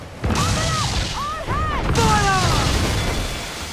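Ship cannons firing in the video game Assassin's Creed IV Black Flag: several heavy booms in quick succession at sea, with crew voices shouting over the roar.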